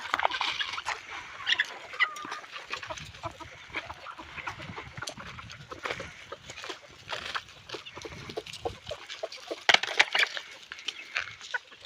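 Desi village chickens on a poultry farm pecking at finely chopped vegetables thrown to them, with quick irregular taps and scratches mixed with scattered clucks from several birds nearby.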